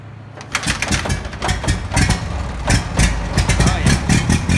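An old tractor engine, started without a starter, idles loud and close with a rough, uneven chugging rhythm.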